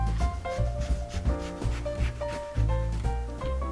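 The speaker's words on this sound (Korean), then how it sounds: "손 조심조심 최대한 얇게 슬라이스 해줍니다." A sharp knife slices a Melogold grapefruit thinly, making close, rhythmic rubbing and scraping strokes over steady background music.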